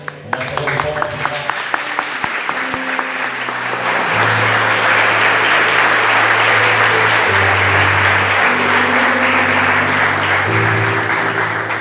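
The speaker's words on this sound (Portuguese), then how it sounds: "Salva de palmas" Dense applause fills a church spiritual retreat opening, brisk clapping from a crowd at first, then sustained keyboard or organ chords swelling beneath as the clapping continues, with voices faintly mixed in.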